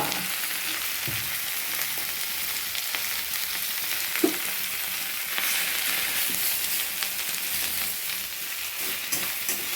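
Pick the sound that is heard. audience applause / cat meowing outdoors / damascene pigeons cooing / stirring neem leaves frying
stirring neem leaves frying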